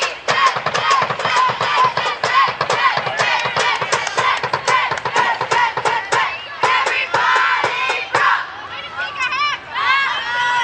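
Softball teammates shout and cheer one another on from the dugout at a University of Sioux Falls versus Mankato State game: a dense run of loud, overlapping voices and rhythmic yells, with crowd chatter carrying throughout.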